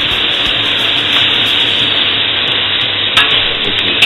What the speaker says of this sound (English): Next I've thrown in the pepper and onion and garlic.